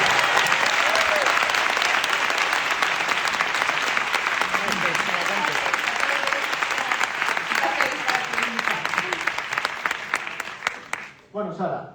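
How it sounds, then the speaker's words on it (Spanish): Audience at an interview event with a European Space Agency astronaut applauds the guest, a dense, steady wash of many hands clapping that holds loud and close before thinning out at the end. "Un aplauso para ella."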